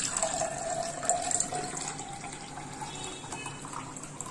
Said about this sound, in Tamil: இப்போ நம்ம அதை ஃபில்டர் பண்ணிப்போம்.